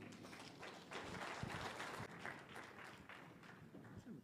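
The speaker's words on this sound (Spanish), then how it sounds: "Le recibamos con fuertes aplausos." Applause from a crowd at a Quechua-language evangelistic campaign, a steady wash of clapping that continues for several seconds at moderate level, mixed with some crowd noise and voices.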